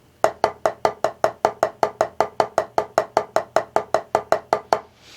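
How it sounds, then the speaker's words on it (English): Even, unaccented snare strokes playing a double paradiddle in a steady stream, about twenty crisp hits of equal loudness played alone. "Either way, it's all a double paradiddle."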